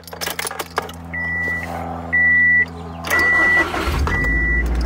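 An older Subaru car is cranked and started without pressing the clutch, with chimes beeping in regular bursts as the engine turns over and then catches into a low rumble.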